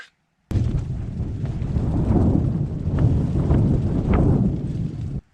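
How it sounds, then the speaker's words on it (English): Strong wind above the tree line buffets the microphone in a loud, continuous roar, with occasional harder gusts thumping through, starting abruptly after a brief silence. "It is really quite windy now"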